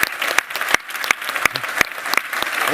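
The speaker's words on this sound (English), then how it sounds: "big round of applause for Mats and for this." A small conference audience at Codegarden 2022 claps for Mats, fairly close, with a few sharp individual claps standing out above the dense clapping.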